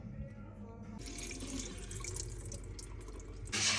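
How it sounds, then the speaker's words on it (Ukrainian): Water pours off soaked poppy seeds in a kitchen, a steady close splashing stream that shifts and grows louder near the end. "Ти оцю воду хочеш злити?"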